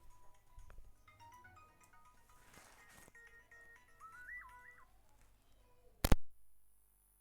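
A phone rings with a faint, melodic ringtone of short warbling notes in a quiet room, ending with a sharp, loud thud.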